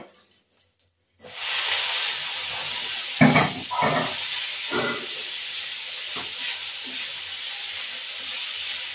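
Cauliflower florets fry with salt in a hot pan for an Indian-style cauliflower roast, a steady loud sizzling hiss that starts abruptly after a moment of quiet, with a few clattering stirs of a utensil partway through.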